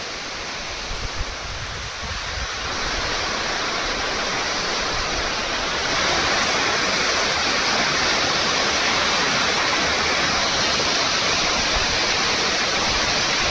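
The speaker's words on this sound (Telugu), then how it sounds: "ఇది ఈ ఫాల్ వాటర్ ఫాల్స్ చాలా ఫేమస్." Birthi waterfall beside the Munsiyari road in Pithoragarh's hills roars in a steady, dense wash of falling water, loud and close, growing slightly fuller partway through with no voices over it.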